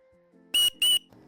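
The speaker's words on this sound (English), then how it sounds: "the Aboriginals back in the day used to utilise them as whistles, high-pitched whistles" A natural crystal tube is blown as a whistle, giving two sharp, loud, high-pitched blasts in quick succession.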